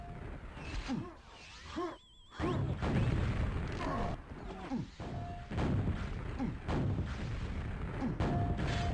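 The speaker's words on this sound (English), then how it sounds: "That grenade almost found its mark. Thankfully the rocket that went along with it did." Grenade and rocket explosions in a Quakeworld duel thud and crash in quick, irregular succession amid game sounds, with several sharp impacts and short whooshing pulses, moderately quiet overall.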